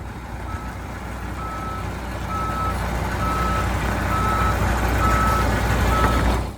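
A heavy transport truck hauling a giant Caterpillar 5090B shovel creeps through a tight, winding road section, its engine rumbling louder while a reversing alarm beeps in a steady, evenly spaced rhythm, with no talking.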